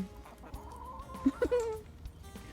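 Young chickens only a few weeks old cluck softly from a short distance, a few brief calls standing out over quiet background noise.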